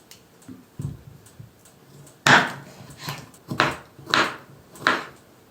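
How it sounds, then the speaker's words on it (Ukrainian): A knife slicing cucumbers into half-rounds on a cutting board: several distinct chopping knocks, a few soft early taps then four or five crisp, evenly paced cuts, close and unaccompanied by talk. "Огірочки поріжу пів кружальцями."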